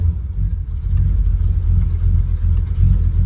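Engine of a 1967 Dodge Coronet running rough and unwilling to idle, a loud, uneven low rumble that sputters and wavers throughout, close up with no talking.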